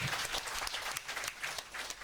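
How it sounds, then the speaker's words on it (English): Brief, quiet round of audience applause at a plenary session of Nigeria's Public Complaints Commission, a scattered patter of clapping hands heard from a distance. "let us use this moment to give a very, very round applause to each other"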